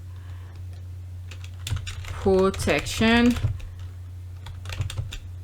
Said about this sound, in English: I'm typing words that popping up in my head